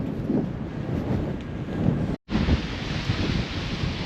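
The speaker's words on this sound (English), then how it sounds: "As you can see, it's windy." Strong wind buffets the microphone outdoors in Reykjavik, Iceland, a loud rumbling roar with gusty swells, broken by one abrupt moment of near-silence before the blustering resumes.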